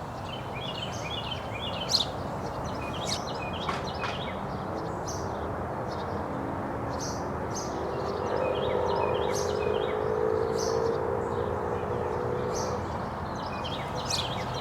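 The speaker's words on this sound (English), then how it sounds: "Every time I'm out here, it's just covered in bird song." Several birds chirp and tweet in short, scattered bursts across a garden after a hail storm, fairly distant over a low outdoor rumble.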